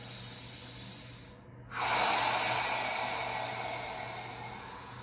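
Deep breathing during a yoga stretch, a soft airy exhale that swells after a brief pause and holds as a steady close breath, alone without talk.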